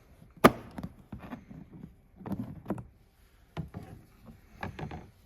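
Black plastic cover over the coolant area of a Volvo XC60 engine bay pinched and slid aside, giving a sharp plastic snap followed by several soft scrapes and clicks, close and fairly quiet.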